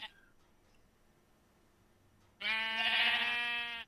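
In a video game, after a near-silent stretch, a single loud, drawn-out sheep bleat sounds up close, steady and nasal, lasting over a second.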